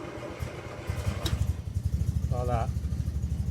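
A Land Rover Series engine idles with a steady low throb, close and continuous, while someone talks briefly over it.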